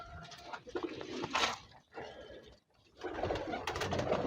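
Pigeons in a loft coo softly and repeatedly at close range, with low throaty calls overlapping and a brief lull before they start again.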